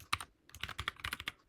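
Fingers type quickly on a computer keyboard, a close run of crisp key clicks in irregular bursts with a short pause near the start.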